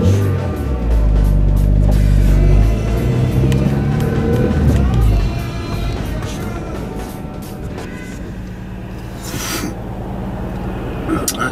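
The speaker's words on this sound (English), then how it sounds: "let's get a little test drive in" A 2002 Acura RSX Type-S on a test drive after an idle air control valve delete, with loud engine rumble and road noise that swell early and then settle into a steadier cabin drone.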